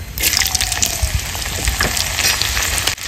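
Dried red chilli, whole cumin, bay leaf and chopped garlic sizzle and crackle in hot oil, a loud steady frying hiss with small pops throughout, no voices.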